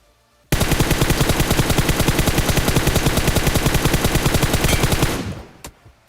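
Automatic gunfire in BGMI rattles out as a loud, continuous burst of rapid, evenly spaced shots lasting about four and a half seconds, then trails off into fading echoes. No one talks over it.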